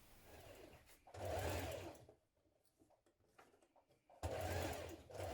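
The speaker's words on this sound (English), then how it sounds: "Distribute your gathers evenly and then we're going to stitch this in place." A sewing machine runs in two loud bursts, stitching a gathered seam on a McCall's 7969 dress, with a quieter pause of fabric handling between the runs.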